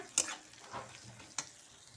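Onion with ginger, garlic and cumin paste frying in oil in a pan for broccoli curry, a soft, quiet sizzle broken by two sharp stirring scrapes.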